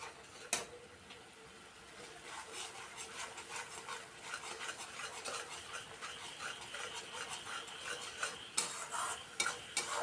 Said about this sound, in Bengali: এক্ষেত্রেও গ্যাসের হিটটা মিডিয়ামে রেখে বেশ কিছু সময় নিয়ে 5 থেকে 7 মিনিট খুব ভালো করে কষাতে হবে এটাকে।